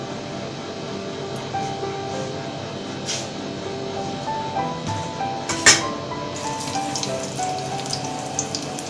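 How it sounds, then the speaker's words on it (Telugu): Garlic cloves sizzling in a spoonful of olive oil for ridge gourd chutney tempering, a dense, even crackle running throughout with one sharp clink midway, and no voices. "ఒక స్పూన్ ఆలివ్ ఆయిల్, అలాగే వెల్లుల్లి రెబ్బలు"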